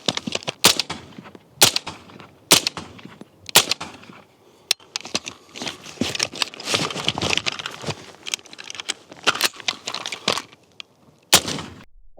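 Rapid AR-15 rifle shots, a few spaced single cracks followed by a dense flurry of fire, loud and sharp with a crackling outdoor tail between reports.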